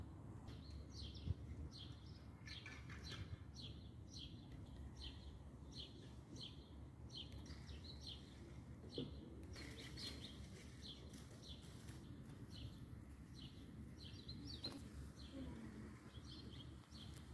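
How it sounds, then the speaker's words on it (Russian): Small birds chirp and trill repeatedly in the background, fairly faint, over a low steady outdoor rumble; no one speaks. "Слышите, как птички поют у нас?"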